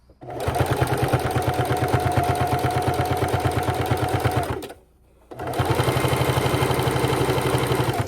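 A sewing machine stitches the binding on a reverse-appliqué quilt with pink thread, running in a fast, even, close-up whir, pausing for a moment, then starting up again at the same pace.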